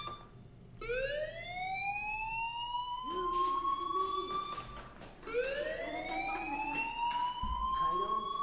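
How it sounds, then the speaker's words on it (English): An electronic fire alarm in the video game Life Is Strange wails in rising, sweeping tones, repeating twice, fairly loud, with some faint background sound beneath. "do you hear that fire alarm? That means you should be outside."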